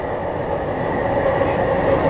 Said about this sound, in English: We're also on the train.